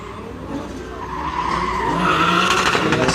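A drift car skids through a corner at DriftCup qualifying, its tires squealing and engine droning in a rising, sustained howl.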